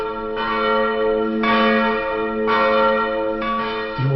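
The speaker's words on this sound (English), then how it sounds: "The old town chimes, Tom." Old town church bells ring loudly in a slow, even series of four resonant strikes. Each toll hums and overlaps the next, and no voices are heard.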